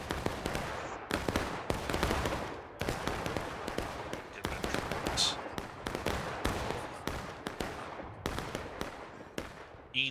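Musket volleys in the video game War of Rights, ragged cracks and pops going off in quick irregular bursts, some close and sharp, others more distant, with a voice talking faintly underneath.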